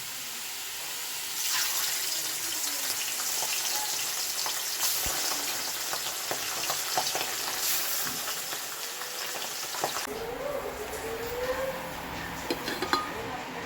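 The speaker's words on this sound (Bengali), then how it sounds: "বড় কড়াইতে তেল বসিয়েছি মাছগুলো ভাজার জন্য ছেড়ে দেবো" Fish frying in oil in a large wok (kadai), with a continuous sizzle that shifts partway, along with scattered utensil clicks and a soft splash near the end, no voices.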